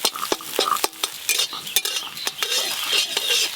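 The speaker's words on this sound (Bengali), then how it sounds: "লবণ, ঝুড়ো ঝুড়ো করে ভেজে নেব।" Eggs, about four, seasoned with salt, fry and get crumbled with a spatula for mixed rice: a close, loud sizzle broken by quick repeated scrapes and taps of the utensil against the pan, with no voices.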